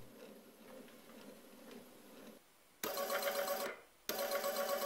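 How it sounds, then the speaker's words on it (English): A geared motor salvaged from an old printer runs on 5V, giving a steady whirring hum that then switches to louder buzzing bursts separated by brief pauses. "This motor from an old printer is more powerful, here it's driven with 5V."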